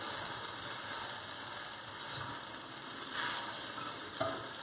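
Frozen peas stirred into chicken fried rice in a hot pan, giving a steady low sizzle with soft scraping stirs and a few light clacks, faint and alone.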